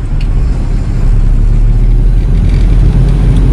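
A car engine pulls steadily after a shift into third gear, a loud, close, continuous low drone with a slight lift in level about a second in and no voices over it.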